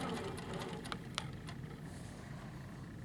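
A sewing machine runs steadily while quilting a border with an HQ ruler on a boat quilt, a quiet continuous mechanical whir with a few light ticks near the start.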